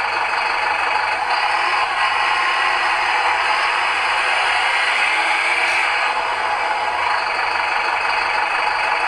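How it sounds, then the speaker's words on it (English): A Benedini TBS Mini RC engine sound system plays a steady, loud idling truck-engine rumble with a faint rattle, running continuously without speech. "Lovely idle sound."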